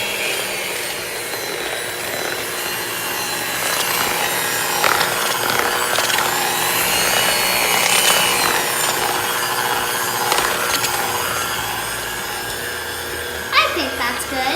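Cheesecake batter with vanilla extract gets a quick mix, likely with an electric mixer, heard as a steady whirring, scraping hum at moderate level that runs throughout with a brief clatter near the end.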